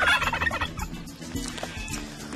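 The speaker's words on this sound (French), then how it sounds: "Quand on siffle, ça a toujours fait chanter les dindons." Several farmyard turkeys at a village in France gobble in quick, rattling bursts, loud at first and then continuing in a slightly fainter cluster of calls with no talking.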